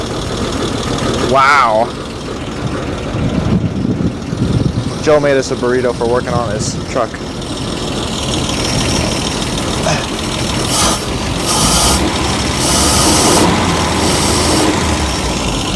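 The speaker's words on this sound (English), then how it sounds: "She idles good." A 1949 Dodge truck engine, long abandoned in the desert, idles steadily with a low, even rumble beneath people talking nearby; a brief whistle-like warble cuts through early on.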